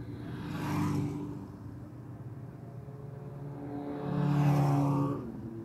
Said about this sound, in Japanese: この黄色のブカティが先導車なんだ。